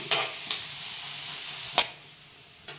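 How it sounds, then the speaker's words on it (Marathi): Garlic, green chili and peanuts frying in hot oil, a steady sizzling hiss with a few sharp stirring scrapes and taps close by; no speech. "तेलात मस्त लसूण टाकला, लसूण, मिरची, शेंगदाणा, मिरची."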